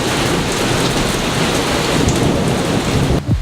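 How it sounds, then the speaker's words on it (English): Heavy rain pours steadily outside a garage, a dense, loud, continuous wash of hiss and patter that fills the whole stretch, with no voices. "it's pouring rain outside"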